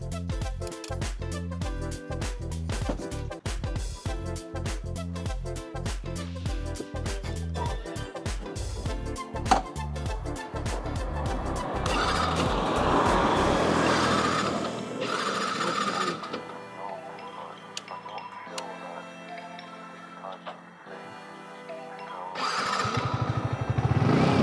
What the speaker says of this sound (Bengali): বাইকটা স্টার্ট নিচ্ছিল না। সো চাবি দিয়ে অফ করে আবার অন করা লাগলো